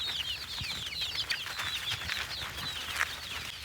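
Chicks on a poultry farm cluck and chirp steadily while eating scattered grain feed, a dense chorus of many small birds close by with occasional wing flaps, no talking.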